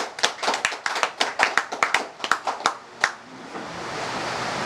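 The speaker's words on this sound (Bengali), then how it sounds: "প্রত্যেকে সবার উদ্দেশ্যে একটা করতালি হবে।" A small gathered group claps together for a few seconds in quick, uneven bursts before the applause tapers off into a faint, steady room hiss.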